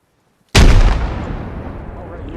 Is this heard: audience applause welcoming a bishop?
no